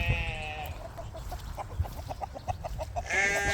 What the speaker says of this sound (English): There's a hen.